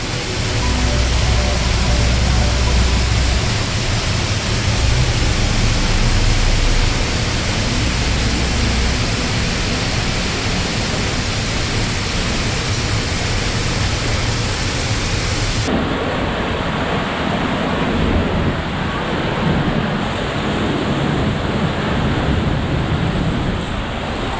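The Fanes waterfall roars beside a via ferrata route that passes beneath the falls, a loud, dense, unbroken rush of crashing water close by that shifts slightly in tone partway through.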